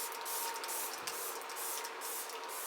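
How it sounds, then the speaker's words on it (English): Repeated hissing bursts of a makeup setting spray bottle close by, several quick pumps in a row with barely any gap between them. "I douse my face in setting spray like this"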